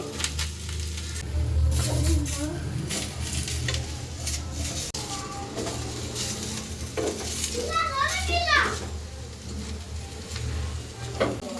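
Onion, ginger, cinnamon, cloves, pepper and garlic fry in oil for a home-style chicken sambar. A constant sizzle sits under repeated stirring scrapes against the pan, with faint background sounds.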